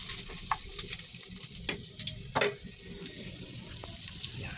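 Ginger pieces frying in hot coconut oil in a pan, a quiet steady sizzle and crackle with occasional stirring clinks and scrapes close by.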